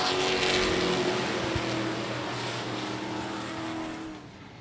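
Race cars restart at I-37 Speedway in a loud, sustained engine roar that swells, holds and then fades as the pack pulls away, with a sharp knock near the start and no voices.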